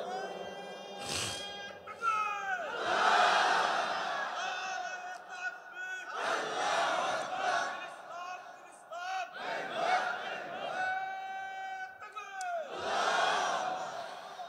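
A large crowd at an Islamic religious gathering answers in unison with shouted chanted slogans, three or four long, loud collective roars separated by brief pauses, with a lone voice leading between them.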